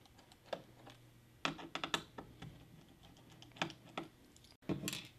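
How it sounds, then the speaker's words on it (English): Jeweler's screwdriver unscrewing small screws on a Dell Vostro 3400 laptop, heard as scattered close clicks, taps and brief scraping bursts with quiet pauses between them. "You unscrew a couple of screws here."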